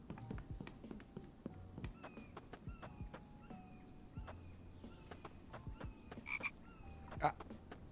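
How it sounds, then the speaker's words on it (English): Frog croaking in The Infected, a survival video game, with repeated short croaks scattered through a busy ambient bed of game noise, including faint clip-clop hoofbeats and a louder croak near the end. "Frog in here."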